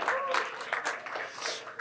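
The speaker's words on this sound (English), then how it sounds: "Makes another round of applause." An audience claps in a steady wash of applause, with voices mixed in beneath it.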